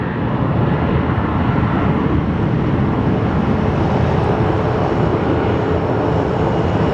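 A Cessna light airplane at Sky Harbor Airport gives a loud, continuous broadband engine roar that holds steady and close throughout, with no talking over it.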